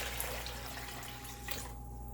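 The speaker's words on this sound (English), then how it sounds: "So I'm going to transfer the water." Water is poured steadily into a big bowl, a continuous close splashing wash with no talking.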